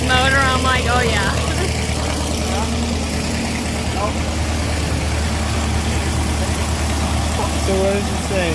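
A new 2276cc engine runs on a dyno at an EMPI open house, a loud, close, rumbling drone with voices chattering over it throughout.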